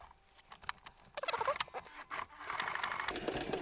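A sewing machine stitching a cushion cover on a zigzag setting at stitch length 1.5, running slowly in short bursts, close and quiet, with soft rattling pauses between runs and no talking.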